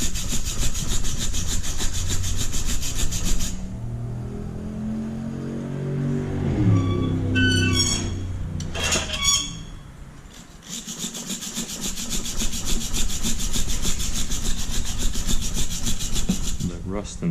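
Rusty drive wheel of a vintage National walking sprinkler turning, a harsh rhythmic grinding scrape, close and loud, that stops for several seconds midway and then resumes.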